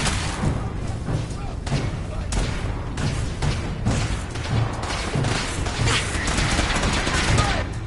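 Dense, continuous gunfire and thudding booms fill a battle in the video game Fallout 4, loud and unbroken throughout, with voices mixed in under the shooting.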